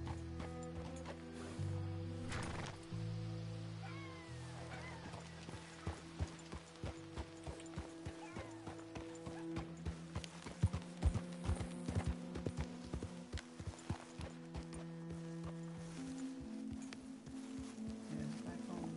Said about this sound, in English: Put my horse here.